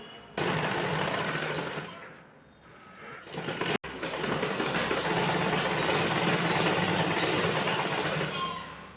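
A sewing machine stitches a blouse with a continuous fast mechanical whir and clatter up close. The machine slows briefly, stops for an instant, then runs on steadily.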